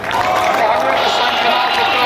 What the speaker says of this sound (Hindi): अपने लिए ताली बजाइए आप सभी लोग।